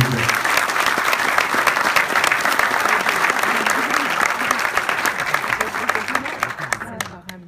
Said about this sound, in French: j'aimerais un petit applaudissement pour monsieur Daniel Charles